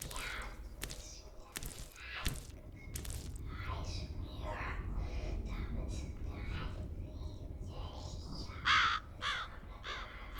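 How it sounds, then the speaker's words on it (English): Crows caw inside the F.E.A.R. video game, a sharp cluster of calls near the end standing out over steady low game ambience while people talk throughout. "I love that there's crows in his window."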